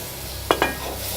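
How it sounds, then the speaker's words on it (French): Small cooked vegetables being rolled in ordinary butter in a pan, a soft steady sizzle broken by two quick clinks of a utensil against the pan, with no voices. "Donc on va les rouler au beurre."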